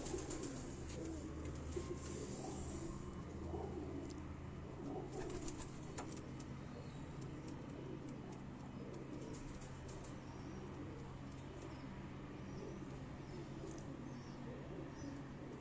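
Sialkoti pigeons coo in low, throaty bursts, repeating over a steady background hum, with occasional faint rustles nearby.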